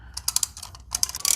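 A small brake caliper piston compressor tool on a Chevy Tracker clicks in two quick bursts of sharp, close ratcheting taps with a brief pause between them.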